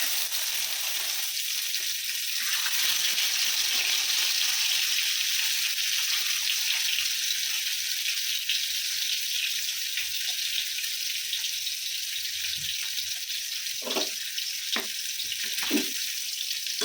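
Katla fish pieces coated in salt, turmeric and oil fry in a pan, giving a continuous bright sizzling hiss with a few sharper pops and spatters near the end, with no talking.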